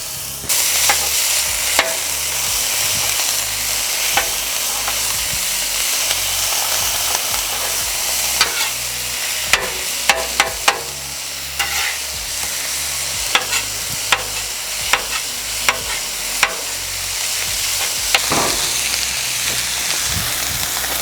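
Ground sirloin and salsiccia sausage sizzling on a Halo Elite4B outdoor griddle, a loud continuous frying hiss close up, with scraping and clacking spatula strokes throughout and no talk.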